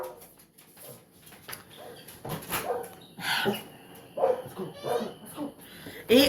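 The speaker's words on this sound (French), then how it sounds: "J'ai mes chiens qui aboient" Several dogs bark and whimper in bursts somewhere in a home, mostly in the background and moderately loud, under and between stretches of someone talking.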